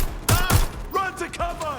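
Bursts of gunfire ring out during a firefight in the video game Watch Dogs: Legion, several loud cracks in quick succession, close by and mixed with shouting voices.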